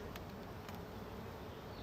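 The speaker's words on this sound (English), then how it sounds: "I'm hoping not to squish any bees here." Honey bees hum in a steady, dense drone during a hive inspection at an apiary, with faint clicks of frames being handled over the continuous buzz.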